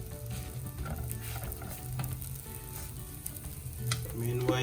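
Mutton shami kebabs sizzle in oil on a tawa, a fairly quiet, even crackle close by with small clicks and scrapes from handling the patties.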